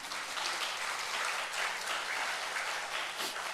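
Applause from the congregation at a Korean church Sunday afternoon service, a sustained dense burst of many people clapping at steady loudness throughout.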